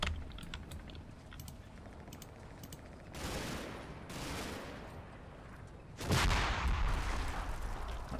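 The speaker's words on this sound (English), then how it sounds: "That's the mortar getting bombed." Explosions from a mortar position being shelled in the Combat Mission WWII strategy game, Normandy hedgerow setting: faint keyboard-like clicking, then a few booming bursts, the loudest and closest near the end.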